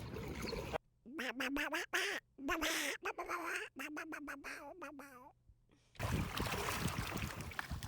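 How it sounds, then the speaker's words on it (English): A mallard duck quacks at a creek in a rapid run of nasal calls, close and loud, with water and wind noise before and after. "There's a mallard duck."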